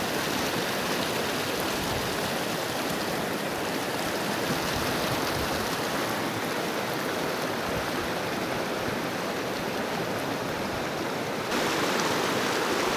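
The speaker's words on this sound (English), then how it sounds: "Can you hear the sound of this river?" A river flows beneath a wooden bridge in a Chinese mountain landscape, a loud, steady broadband rush of moving water filling the whole stretch without pause.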